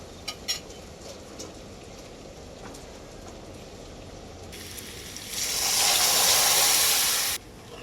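Boiled masoor lentils are poured onto fried radish in a hot pan, a loud hissing sizzle that swells partway through, holds for a couple of seconds and then cuts off sharply. A few faint clicks come before it, with no talking.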